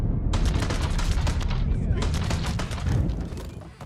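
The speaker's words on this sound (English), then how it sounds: "I see you firing." Rapid gunfire in the Mafia 3 video game, a dense burst of repeated shots and cracks, loud and close, fading slightly toward the end.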